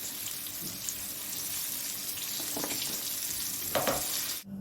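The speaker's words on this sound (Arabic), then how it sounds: "وقطع الفراخ اللي تتغلف بالدقيق اقليها على طول" Flour-coated chicken pieces fry in a small amount of oil for sweet and sour chicken, giving a close, continuous crackling sizzle with occasional stirring clatter before it cuts off abruptly near the end.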